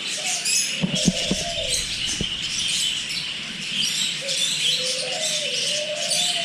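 Loud bird calls sound over steady chatter of many birds, with warbling, rising calls near the start and again later, plus a few sharp clicks.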